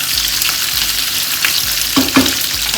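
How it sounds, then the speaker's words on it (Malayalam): Chopped onions sautéing in a hot pan for paneer masala, a steady close sizzle with a couple of louder scraping stirs near the end. "2 ഇടത്തരം സവാളയും അരിഞ്ഞത് ഇട്ട് കൊടുക്കാം. ഈ ചെറുതായിട്ടൊന്ന് വഴറ്റിയെടുക്കേ."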